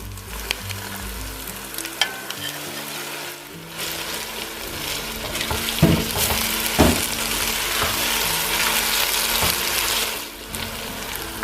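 Meat returned to a pan of frying blended peppers for Nigerian ayamase stew sizzles loudly and steadily, with a few clattering stirs and scrapes of a utensil against the pot partway through.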